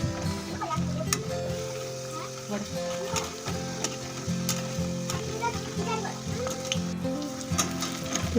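Sago vada deep-frying in hot oil makes a busy, crackling sizzle with bubbling pops and light clinks. A faint voice speaks under it.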